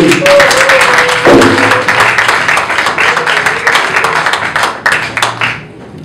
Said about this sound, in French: On acclame Jésus-Christ maintenant.